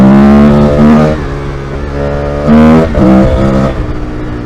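Motorcycle on Dunlop Trailmax Raid tyres ridden hard in wet conditions, engine note rising and falling through repeated throttle surges and revs, loud and close.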